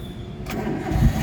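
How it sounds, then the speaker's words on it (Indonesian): A 2006 Suzuki APV 1.5 manual car starts with the key, a steady low cranking rumble that catches and swells into a louder engine note near the end, close and with no talk. "Sekarang kita nyoba nyalakan mobil."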